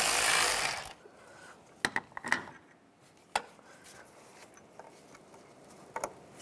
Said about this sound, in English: Now you can use a 15mm socket, take this bolt out.